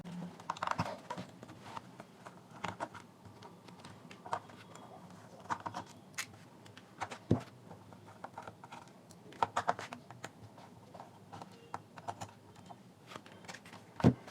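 Small screws are backed out of a Bluetooth FM speaker casing, producing faint, sparse clicks and taps at close range in an otherwise quiet room.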